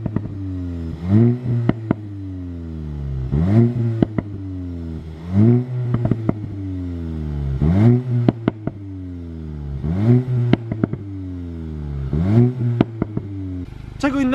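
A VW Golf 8 GTI sits at idle with a low, steady hum, broken by about six quick throttle blips that rise and fall back in an even rhythm. The car is close, with no voices.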